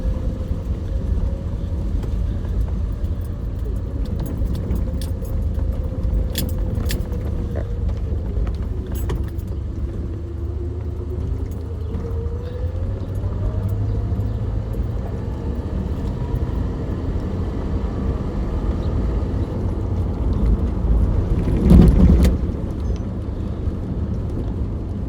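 A 1985 Jeep Grand Wagoneer drives around the block with a steady, close rumble from the cabin and a soft rise and fall in engine tone. Brief jingling rattles break in near the end.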